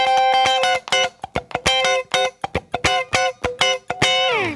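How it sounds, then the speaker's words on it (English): Rhythmic funk strumming on an electric guitar, tight chord stabs alternating with percussive muted-string scratches in a choppy, syncopated pattern, loud and close, ending on a sliding chord. "if you start to mute the strings around it, which I'll show you in a little bit, and start doing funk strumming"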